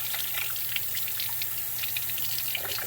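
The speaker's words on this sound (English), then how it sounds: "So we want to soak them with the water." Water is poured over yarn-wrapped wooden dowels to soak them, a continuous close trickling and splashing with small irregular drips throughout.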